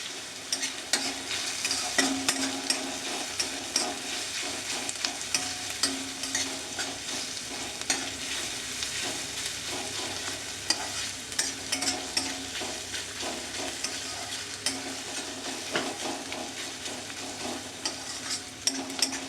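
Chopped boiled radish frying in a pan with browned onions while being stirred, a steady close sizzle with frequent scraping and clacking of the spoon throughout.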